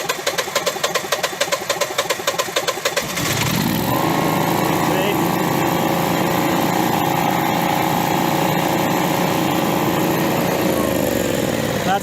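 A small two-stroke engine, its carburetor diaphragm just loosened, sputters unevenly for a few seconds, then catches and holds a steady, loud running drone at close range.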